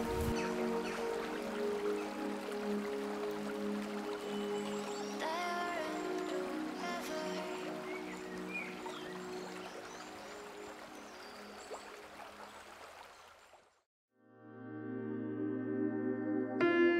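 Steady broadband rush of the Batu Manrusu waterfall and flowing river at Parangloe, Gowa, continuous and fairly loud with faint bird calls, cutting to a brief silence and tonal music near the end.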